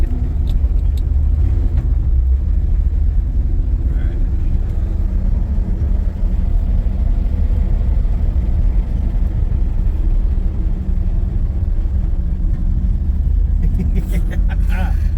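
A 1962 Chevy pickup truck with a custom exhaust rumbles steadily with a deep, throaty drone, idling and cruising close by, with a few clicks near the end.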